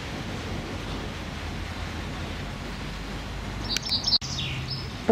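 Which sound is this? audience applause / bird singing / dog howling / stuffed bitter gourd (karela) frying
bird singing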